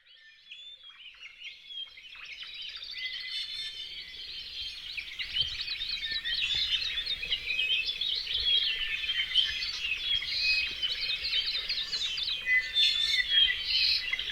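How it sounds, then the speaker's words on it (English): Dense dawn chorus of many birds at Hakalau, Hawaii: overlapping chirps, trills and whistled songs build from quiet to a steady, full layer that continues throughout without pause. "When you hear the chorus of birds, the dawn chorus at Hakalau"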